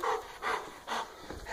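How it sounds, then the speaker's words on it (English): A wet dog pants indoors after rain, giving quick, soft, breathy huffs in an even rhythm of about three breaths, close but quiet, with no talking. "Doggy's all wet. Zooming around the house like a fool."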